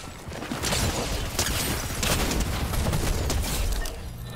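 Rapid gunfire in a Fortnite-style shooter game rattles as a dense, continuous fusillade of shots and impacts, fairly loud throughout with no talking.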